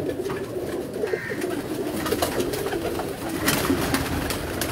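Middle-weight breeder pigeons coo steadily close by, a continuous low murmur of overlapping calls with scattered flutters and shuffling, no voices.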